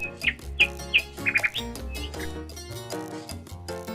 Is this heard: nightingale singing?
yes